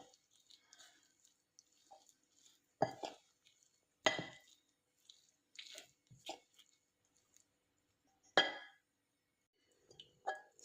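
Pakora batter made with Maggi noodles being mixed with a spoon in a bowl, with soft wet squishes and occasional spoon clinks in separate close bursts against quiet gaps.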